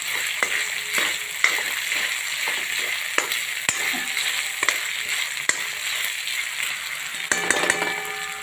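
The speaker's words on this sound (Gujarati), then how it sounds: "મેથી ચોખા સરસ શેકાઈ રહ્યા છે" Fenugreek seeds and rice roast in hot ghee in a pan, giving a steady close sizzle broken by sharp clinks and scrapes of a spoon stirring against the metal.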